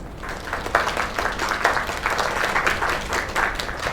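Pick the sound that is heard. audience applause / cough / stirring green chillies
audience applause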